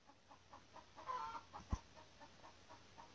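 A hen clucks in a flood-hit yard at Kota Belud, Sabah, a few soft rhythmic clucks with one sharper note, fairly near over faint background noise.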